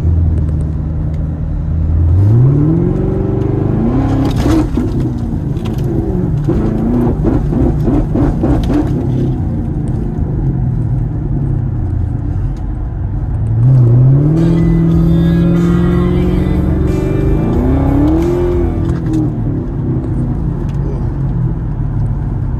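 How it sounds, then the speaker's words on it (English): A Chevrolet Camaro SS rolls slowly through a subdivision at low speed, its engine a steady close rumble that rises in a couple of smooth revving swells as it accelerates and shifts. "car is driving, running pretty fantastic, very happy"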